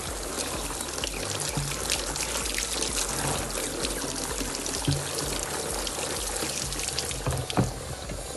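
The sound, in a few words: water filling and rinsing a 5L plastic tank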